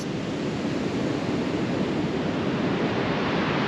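Ocean waves on a beach at Olympic National Park in Washington: a dense, continuous roar of surf, loud and steady throughout, with wind buffeting the microphone and no voices.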